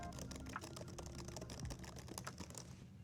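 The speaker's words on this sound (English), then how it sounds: "Really good sounding keys." Key presses on a roughly 20-year-old Apple MacBook keyboard, a dense run of soft, cushy clicks in a steady flurry, close and clear with no talking.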